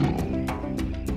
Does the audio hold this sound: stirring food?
no